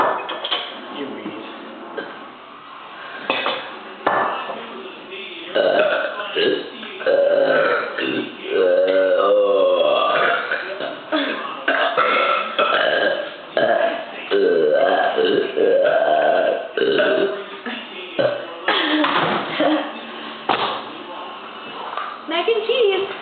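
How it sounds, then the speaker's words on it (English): Long, loud, drawn-out belches come one after another, some deep and rumbling, some croaky, with brief breaths and bits of talk between them. "Is this belch 4?"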